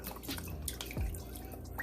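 Worcestershire sauce drips and splashes into a pot of beef broth, a brief, faint liquid pour with a single soft plop, no talking.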